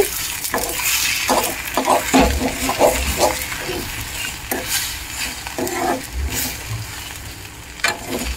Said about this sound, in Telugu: చల్లేసుకొని కలిపేసుకోవాలి